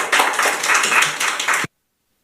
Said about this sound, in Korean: 박수로 환영해 주시면 감사하겠습니다.